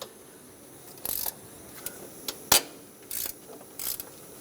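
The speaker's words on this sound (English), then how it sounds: "Let's break free the two bolts holding the thermostat housing on. 10mm socket." A ratchet with a 10mm socket loosens the two thermostat housing bolts on a 5.4L V8 Ford E-350 engine, giving several short bursts of rapid clicking separated by pauses, with a sharp snap as a bolt breaks free.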